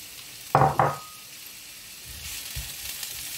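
Bell pepper and scallion hit a hot pan over high heat, giving two sharp bursts of sizzling that quickly settle into a quieter, steady frying hiss.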